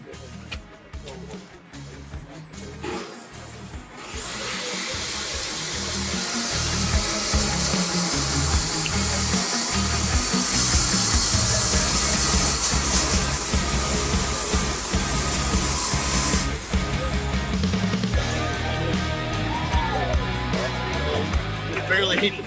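Power tool cutting through metal during a live tool demonstration, a loud sustained grinding whine that builds after a few seconds and holds steady throughout, with broadband hiss and clatter.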